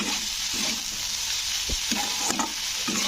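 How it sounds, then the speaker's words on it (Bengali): A water-free spice paste is stirred and fried with yardlong beans in a pan, giving a continuous sizzle broken by repeated scraping strokes of the spatula, with no talking. "এবারে এটাকে একটু নাড়াচাড়া করতে হবে তো একেবারে কিন্তু ভাজা ভাজা মতন হয়ে যাবে"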